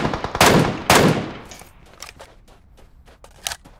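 Gunfire in PUBG Mobile: two loud, close shots in quick succession, then a string of fainter, more distant pops trailing off with one sharper crack near the end.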